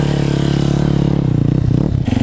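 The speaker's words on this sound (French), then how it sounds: "Vous accélérez plus ou moins fort suivant votre moto et vous lâchez l'embrayage." An enduro motorcycle revs hard with a clear droning engine tone as the clutch is dumped for a skidding U-turn, the pitch dipping and wavering near the end with some scraping clatter.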